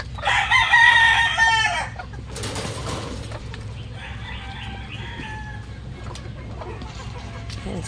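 Young chickens in a brooder make a loud, close crowing call at the start, then softer, intermittent clucking continues over a low background hum.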